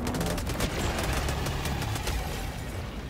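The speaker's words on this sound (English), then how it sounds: "Airstrike." Airstrike explosions from the video game Helldivers sound as a rapid string of sharp booms and crackling blasts, loud and dense across the whole stretch, with no talk over them.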